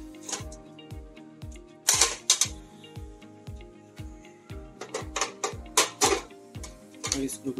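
Three back cover screws are undone on a Minister rice cooker under repair, with a rapid series of small metallic clicks and ratcheting ticks, interspersed with louder rattling bursts, while a voice talks over part of it.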